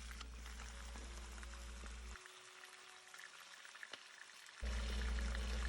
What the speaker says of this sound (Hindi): दोनों में मैं ऑयल डालूँगी।